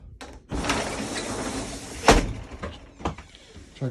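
A Nautilus retractable shower door in a Class C RV bathroom slides open with a sustained rolling swish, ending in a sharp knock, followed by a few lighter clunks nearby.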